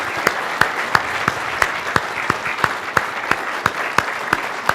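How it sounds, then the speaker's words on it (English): Audience applause at an AWS re:Invent 2016 conference session on modernizing government in the cloud: a dense, steady wash of many hands clapping, fairly loud and close, with a few sharper claps standing out at regular intervals. "let's give these guys a big round of applause"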